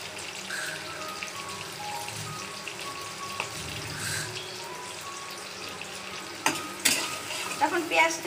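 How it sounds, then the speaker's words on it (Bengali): Onions fry in hot mustard oil while being stirred, a soft steady sizzle broken by scraping spoon strokes and a few louder clatters near the end, close with no talking. "এখন পেঁয়াজটাকে হালকা করে ভেজে দিব।"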